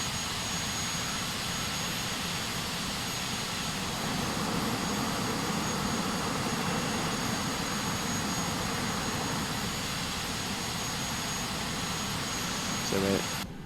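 Boeing 737-800 jet engines in the X-Plane 11 flight simulator hold a loud, steady whine and roar as the airliner taxis, constant throughout and ending with a brief shift near the end.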